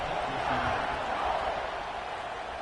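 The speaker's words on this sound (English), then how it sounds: "this crowd is buzzing after that last score" Virtual stadium crowd in the College Football 26 video game buzzes after a score, a steady moderate murmur of cheering and chatter with faint voices blended into the wash.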